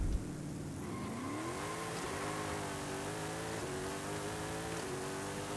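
A Mercury Cyclone Spoiler engine in Forza Horizon 5 revs up against the brake before a launch, climbing quickly after a brief start and then holding a steady, buzzing high-rpm drone.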